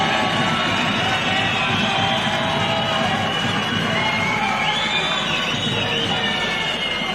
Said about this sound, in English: Let's clap for the members of parliament.